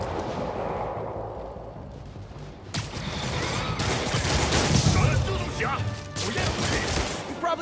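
Gunfire in Spider-Man Remastered: after a quieter stretch, a dense fusillade of rapid shots and crashing impacts erupts, loud and continuous, with radio voices talking over the battle.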